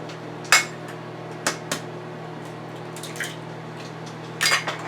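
Two eggs cracked for a breakfast bacon, egg and cheese pizza: a few short, sharp taps and cracks with small wet drips, set against a steady low hum in a quiet kitchen.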